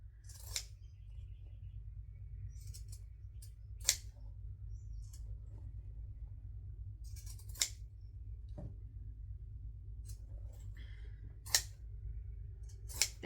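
Zigzag scissors cut through fabric for a bag in a quiet room, with a handful of sharp snips spaced several seconds apart over a low steady hum.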